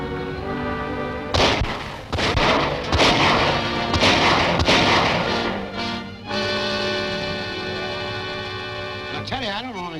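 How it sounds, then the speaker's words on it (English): Gunfire in an ambush at the shore in a 1939 film serial, a burst of loud sharp shots and booms clustered over a few seconds, followed by someone talking. "Wait until they get well ashore, then let them have it. I'll fire the first shot."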